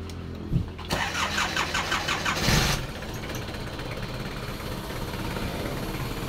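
A Nissan Frontier pickup engine cranks with a rapid whirring starter, catches, and then settles into a steady idle, with a brief louder burst as it fires.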